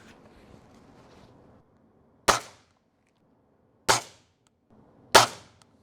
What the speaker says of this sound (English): Right, that's 8 shots. I'm not going to fire more than that.